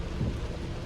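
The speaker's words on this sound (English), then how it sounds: "it's pouring rain, like literally pouring rain" Heavy pouring rain drums on a car, heard from inside as a dense, steady roar that stays loud throughout with no voices.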